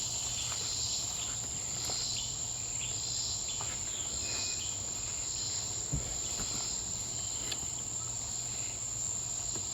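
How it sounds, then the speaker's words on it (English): A swamp cicada buzzes steadily outdoors on a summer day, a continuous high insect drone that holds even and unbroken under faint background sounds, with no voices. "That was a swamp cicada that I just heard."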